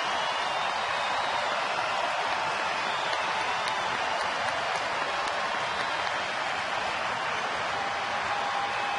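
Baseball stadium crowd at a Cleveland at Philadelphia game rising to its feet, a broad, sustained roar of cheering and applause that stays steady throughout, with no commentary.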